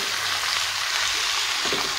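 Chopped bottle gourd with red lentils, green chilli and salt is stirred in a hot pan, giving a steady close sizzle and frying hiss with faint scraping.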